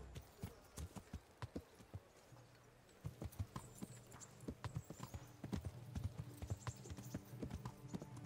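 Hooves of a large horse clip-clop in an uneven rhythm in the video game Kingdom Come: Deliverance, faint and steady, with a low background hum and brief rustling.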